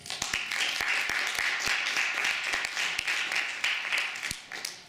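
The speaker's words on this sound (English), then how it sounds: "Please give them a round of applause." Applause from a conference audience at a cybercrime conference, with distinct individual hand claps popping out over a steady, moderate wash of clapping in a hall.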